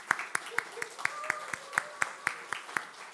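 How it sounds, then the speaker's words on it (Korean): A church congregation claps in congratulation for an elder, sharp clap transients landing in a steady, moderately paced rhythm over a murmur of voices and a sustained musical tone. "우리 축하 박수를 우리 장로님께 보내드리겠습니다"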